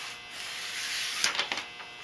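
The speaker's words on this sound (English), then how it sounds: "I just had my first test run of the disc sander" A homemade disc sander fitted with a 120-grit disc runs in a test spin, a steady close electric whine and buzz with a few brief scraping bursts toward the end.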